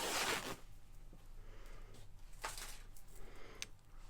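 Fabric torn by hand, one loud quick rip at the start, then soft rustling and small handling noises near the mic.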